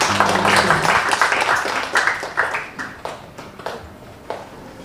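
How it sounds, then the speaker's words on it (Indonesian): Applause from a church congregation honoring a guest minister, a dense wash of clapping that starts full and gradually thins and fades over several seconds, with scattered individual claps near the end. "Mari kita beri tepuk tangan buat beliau."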